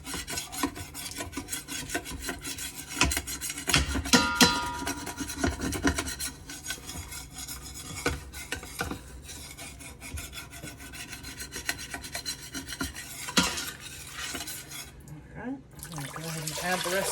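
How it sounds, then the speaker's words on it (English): A utensil scrapes and rubs across the bottom of an Instant Pot in repeated uneven strokes, fairly close, with some wet, liquid texture in the mix. "Just scrape the bottom of that pan."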